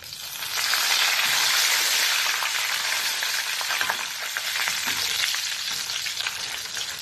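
Bay leaves and whole spices fry in hot oil as a tempering for bottle gourd greens, producing a loud, steady close sizzle with faint stirring scrapes throughout, no voices.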